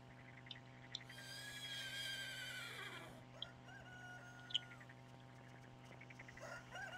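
A horse in the video game Steambot Chronicles whinnies with a high, wavering neigh that trails downward, over a steady low hum and scattered small clicks and chirps.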